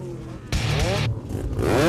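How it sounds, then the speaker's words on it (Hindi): Revving engines roar and whine nearby, with sweeping pitch changes and bursts of acceleration, a voice speaking faintly underneath. "गाड़ियों के इंजन स्टार्ट हो चुके हैं"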